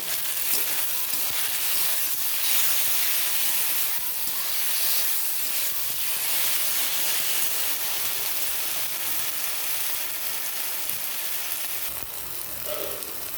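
Onions and tomato paste sizzle steadily in a hot pan for a Bengali small-fish curry, a continuous close frying hiss with small crackles throughout and no talking.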